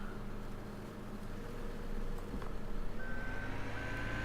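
A skid steer in the Farming Simulator 17 video game reverses with a steady engine drone, and a sustained reversing-alarm tone comes in partway through. No voices are present.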